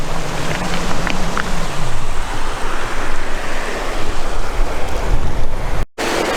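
River water rushes through a structure in a loud, steady broadband roar of flowing water mixed with wind buffeting the microphone, outdoors and continuous, briefly cutting out near the end, with no voices.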